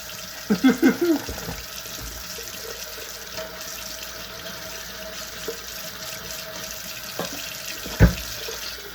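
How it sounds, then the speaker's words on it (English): Hot tap water runs into a kitchen sink over raw chicken for soup, a steady soft splashing stream with a few louder knocks and clatters near the start and one sharp bump later. "when I'm running the hot water, I'm running it like along the chicken"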